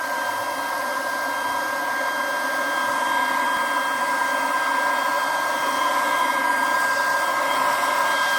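A LIGO 20V cordless brushless leaf blower runs steadily outdoors, its high whining fan and rushing air holding constant and fairly close, with leaves being blown and no talking.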